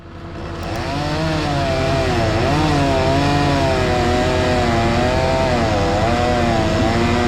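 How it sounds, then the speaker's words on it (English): A chainsaw roars up to full speed and runs loud and steady nearby, its engine note wavering as it bites into firewood. "when I had to take time to cut with a chainsaw like this"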